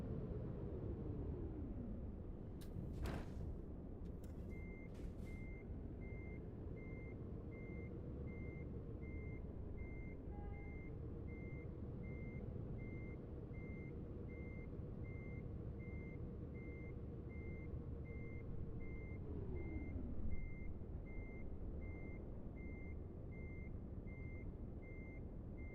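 A forklift reverses in Euro Truck Simulator 2, its repeated high reversing beeps sounding in a steady rhythm over the constant low rumble of a truck engine, with a few brief hissing air-brake bursts near the start.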